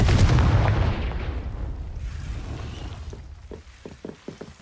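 A Confringo fire spell going off in Hogwarts Legacy: a loud, close booming blast that rumbles and decays over a couple of seconds, followed by a few faint clicking taps.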